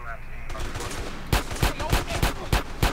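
Bursts of gunfire ring out in the video game GTA San Andreas, with loud, evenly spaced shots rapid-firing over a low background rumble. A voice talks faintly underneath.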